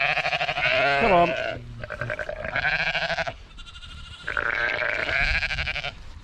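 Several sheep bleat loudly and nearby as they are herded in for the night, overlapping wavering calls that come in repeated bursts with short pauses between.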